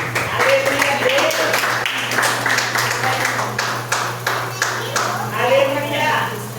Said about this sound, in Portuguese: Receba o servo do Senhor com palmas para Jesus